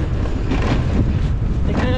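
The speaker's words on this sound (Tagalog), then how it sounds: "Malakas po yung hangin ngayon," Strong wind near a seaside market buffets the microphone in a loud, continuous low rumble with gusty surges throughout.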